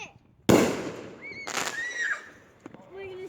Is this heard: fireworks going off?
yes